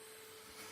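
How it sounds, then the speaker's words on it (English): Vacuum cleaner with lost airflow, running as a steady, even, low-level hiss and hum through the short stretch, no voices. "If we now vacuum a little, we will see what happens."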